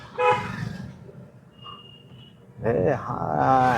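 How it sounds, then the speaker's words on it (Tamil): A car horn honks in short blasts at the start and again near the end, loud and close, with engine noise and a voice in between. "horn one more"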